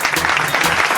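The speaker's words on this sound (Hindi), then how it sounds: "मैं चाहता हूं कि मिस्टर अमित सर के लिए एक जोरदार ताली हो" A burst of loud, dense applause from a seminar audience honoring a speaker at a business presentation, steady and close throughout one second.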